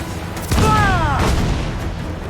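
A single loud cannon blast from a ship in Assassin's Creed IV Black Flag hits with a deep boom and a falling whine, then rumbles away under continuous low battle noise.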